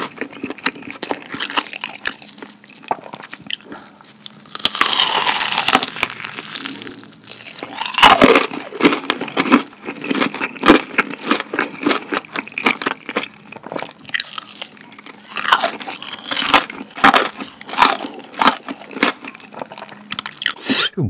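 Close, loud crunching bites into crispy fried cheese balls from a chicken restaurant menu, irregular sharp cracks followed by wet chewing and squishing, repeating throughout without talk.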